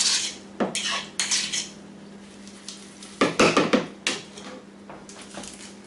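A utensil scrapes and clinks against a bowl while a chorizo and shrimp burger mixture is mixed, coming in irregular bursts of clattering strokes separated by short quiet gaps.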